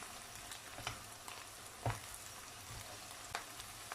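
Rice toasting in oil in a pan while stuffed grape leaves are being prepared, giving a steady soft sizzle with a few sharper clicks and scrapes of stirring, close and fairly quiet, with no voices.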